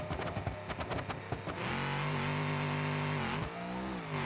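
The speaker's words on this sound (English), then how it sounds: "We definitely over revved it really bad" In BeamNG, a car engine pops and stutters through a few rapid revs, then for a neutral drop it is held screaming at a sustained, over-revving high pitch, briefly dipping before roaring on.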